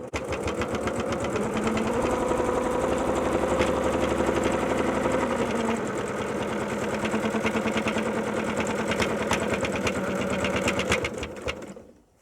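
Close and steady, a sewing machine hums and clatters rhythmically while stitching tape onto a quilt-as-you-go block, running almost without pause before stopping at the end.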